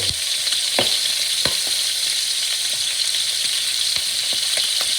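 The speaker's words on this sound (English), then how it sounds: "We'll let it saute on the other side." Food sautés in a hot pan for a quick Spanish paella, a loud continuous sizzle broken by a few sharp crackles and pops, close and with no talk.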